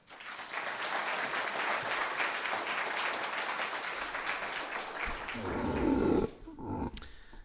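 A lecture audience gives sustained, loud applause to welcome artist Jeffrey Gibson, dense clapping filling the room for about six seconds before it abruptly thins and fades.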